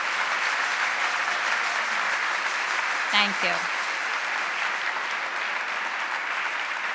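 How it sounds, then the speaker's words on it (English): Steady applause from an audience honoring award recipients at the 2017 Sullivan Renaissance Awards ceremony, sustained and even throughout, with a brief spoken thanks partway through. "Let's applaud these wonderful people."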